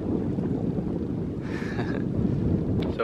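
Strong wind on a sailboat off El Nido, Palawan, in the Philippines, a loud, constant low roar and buffeting across the microphone, with no voices heard.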